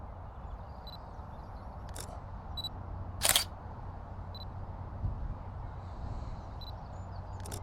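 Olympus OM-1 camera taking a single shot during macro photography with an Olympus 60mm macro lens: one short, sharp shutter click stands out over quiet room noise, with a few faint ticks around it.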